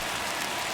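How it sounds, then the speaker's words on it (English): Rain hisses down in the MLB The Show 21 baseball video game, a brief, steady, even wash of dense droplets with no talk. "There is rain in the area, but we've been given the go-ahead to get this one."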